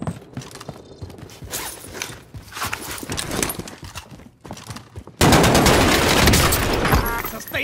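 Automatic gunfire and sustained fusillades in Call of Duty Warzone, with bursts scattered through the first part and a dense, loud barrage taking over near the end.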